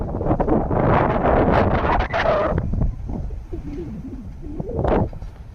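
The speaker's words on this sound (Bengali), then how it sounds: "প্রচন্ড বাতাস হচ্ছে" Strong, dry wind gusts under dark clouds without rain roar and buffet the microphone in heavy rushes, easing then surging again, with faint bird calls in the background.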